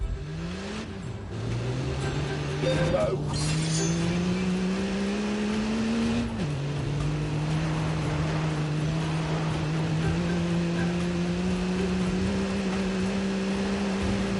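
Car engine in The Grand Tour video game revs and pulls through gear changes, the drone climbing and dropping in steady sweeps, loud and continuous, with a single short spoken word near the start.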